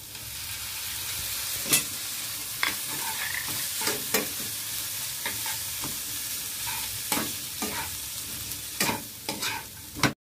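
Close-up stirring of fish and pointed gourd dolma filling with coriander leaves in a pan over a steady frying sizzle, with sharp scraping strokes of the spoon coming every second or so.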